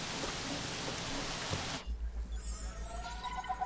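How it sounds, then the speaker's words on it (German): Steady rain hisses in Jurassic World Evolution, loud and broadband for about two seconds, then cuts away to quieter low rumbles with faint tonal game sounds. "Und da kommt der Regen."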